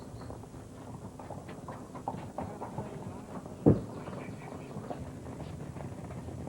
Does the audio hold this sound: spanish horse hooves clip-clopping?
yes